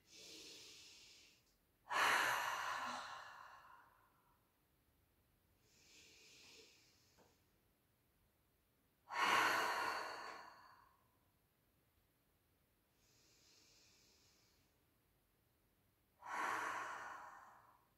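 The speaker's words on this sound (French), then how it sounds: "Je peux inspirer par le nez et expirer par la bouche." During a yoga session, three deep breaths come in slowly through the nose and go out through the mouth. Each one builds to a loud airy exhale, with quiet pauses between them.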